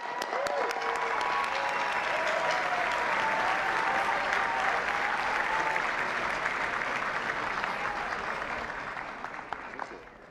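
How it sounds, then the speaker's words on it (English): Sustained audience applause fills a dinner hall at the 2016 White House Correspondents' Dinner as the host is welcomed, a dense, steady roar of clapping with some crowd noise that holds loud throughout and tapers slightly at the end. "Thanks for keeping that applause going all the way, too."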